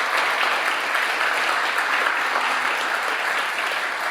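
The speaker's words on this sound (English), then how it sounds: "I think we'll give them another round of applause" Sustained audience applause at an agricultural school symposium, a thick even wash of many hands clapping throughout, moderately loud and unbroken.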